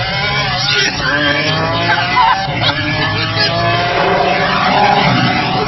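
A Lamborghini Aventador SV LP750-4 accelerates hard under launch control, its engine roaring loud and close with rapid rising revs and quick gear changes through several upshifts.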